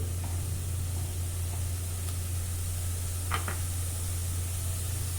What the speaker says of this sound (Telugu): ఈ మొత్తాన్ని కూడా ఉల్లిపాయ పేస్ట్తో సహా వేయించుకుందాం